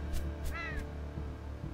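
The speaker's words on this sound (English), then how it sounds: "Why are the crows after me?" Crows in the Unravel video game give a short harsh caw, a single raspy call over a faint low background hum.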